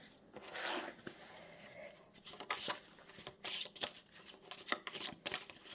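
Playing cards are shuffled for a fortune reading with close, crisp riffling and brisk flicking bursts, irregular in rhythm and fairly quiet, with no speech.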